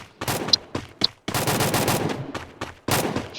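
Gunfire in the mobile shooter Free Fire, bursts of rapid automatic shots with short gaps between them, loud and close, along with a couple of bright metallic pings.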